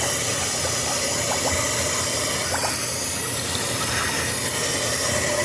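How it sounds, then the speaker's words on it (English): Tap water pours into a kitchen sink as it fills, a steady, unbroken hiss and rush of running water close by, with a few faint clinks behind it. "I just fill the sink up with some water."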